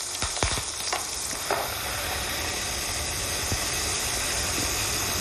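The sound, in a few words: lamb trimmings browning with bay leaves in a pan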